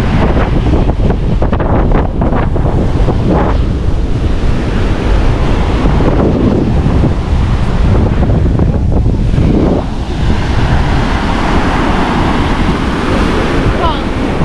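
Surf breaks on a beach in St Lucia, a loud continuous wash of waves with heavy wind buffeting throughout and no clear speech.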